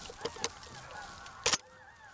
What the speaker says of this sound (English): Oh my God! Look at all the geese.